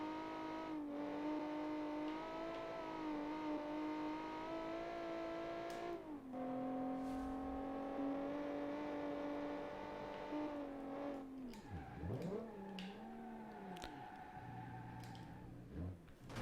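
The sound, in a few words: race car spinning out in BeamNG video game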